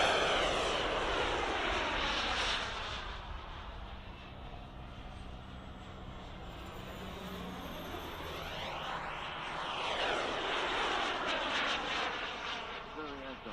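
A model aircraft flying low at an airshow, its engine a loud sustained whine that rises and falls in pitch as it sweeps past, with people talking over it.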